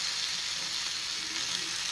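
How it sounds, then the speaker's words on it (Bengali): Previously fried fish sizzles gently in a small amount of oil while being turned, giving an even, continuous frying hiss close by with no speech. "হালকা একটু তেল দিয়ে, একদমই কম তেল দিয়ে মাছগুলো একটু নেড়ে চেড়ে নিচ্ছি"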